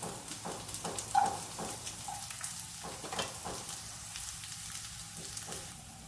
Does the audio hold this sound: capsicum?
yes